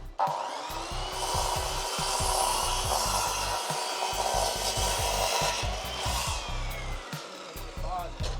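Ordinary saw cutting wood, a continuous loud rasping, grinding whine lasting several seconds, close by, with a soft thump near the start and end and a voice audible underneath.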